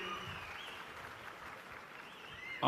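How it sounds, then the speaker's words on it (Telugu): An audience claps steadily to honor the police department at a public event where Andhra Pradesh's chief minister praises the district SP, the applause sounding faint and distant without pause. "గట్టిగా చప్పట్లు కొట్టి అభినందించండి"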